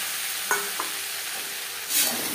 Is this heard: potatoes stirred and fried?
yes